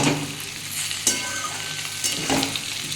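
Ginger paste and two small chopped tomatoes fry in oil for a vegetarian soybean dish, a busy sizzle broken by several sharp scrapes of a spatula stirring against the pan, close up with no talking.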